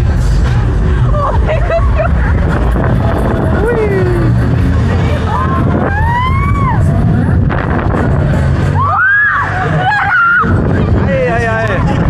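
Riders on the Loop Fighter thrill ride at the Allerheiligenkirmes fair in Soest yell and shriek through a continuous loud crowd roar, with rising whoops and screams bursting out repeatedly over the rumbling mechanical din.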